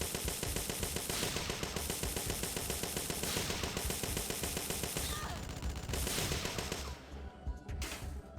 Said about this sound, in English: Stupid machine guns.